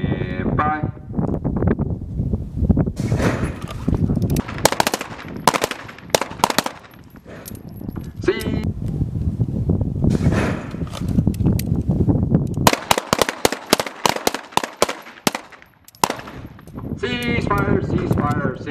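Pistol shots fired as controlled pairs on a US Marines combat pistol range, as sharp loud reports in quick doubles spread throughout, with range commands and talk between the volleys.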